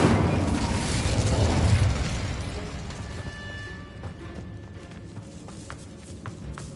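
An Incendio fire spell in a Hogwarts video game goes off as a loud, roaring blast that fades over a couple of seconds into a softer crackling tail with faint pops.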